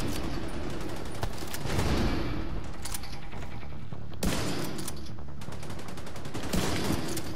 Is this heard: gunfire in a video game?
yes